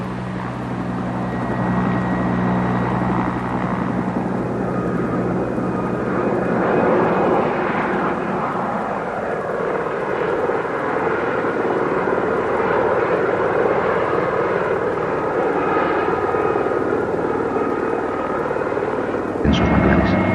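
Steady helicopter engine and rotor drone at an archaeological excavation site among mangroves in Vietnam, loud and continuous throughout, with a sharp change near the end.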